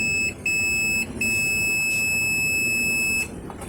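A multimeter's continuity tester beeps in a long, steady high tone with a few brief breaks, heard close over a faint background hiss during a check on car audio wiring.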